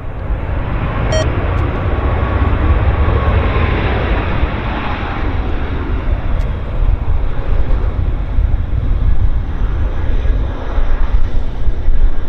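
Aircraft landing at Vancouver Airport on the shoreline side at sunset, a steady broad engine roar held throughout under wind noise on the microphone, fairly loud and constant with no talk.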